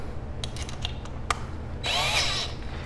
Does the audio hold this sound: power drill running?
yes